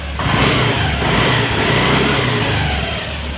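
A vehicle engine with a rattling fault runs steadily and loudly, a low throbbing hum with a gritty, clattering texture that holds throughout without any voices.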